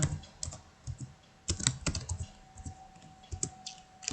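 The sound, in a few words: typing a cheque number on a computer keyboard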